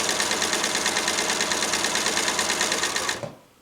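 Sewing machine running steadily as it stitches a quilt, a loud, fast, even whirring hum that stops abruptly near the end, leaving near silence.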